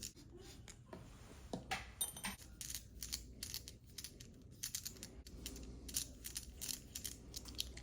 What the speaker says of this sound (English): you need to take these screws out, set those aside, one on each side of the wristband